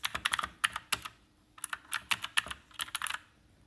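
Typing on an Aukey mechanical keyboard, quieter and less clicky than a Logitech Illuminate, in quick irregular bursts of close, crisp keystrokes separated by short pauses.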